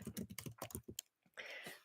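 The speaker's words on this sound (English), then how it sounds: "Sorry for the typing noise." Rapid clicking of a computer keyboard being typed on close up, a burst of quick keystrokes, a short pause, then a softer rustle.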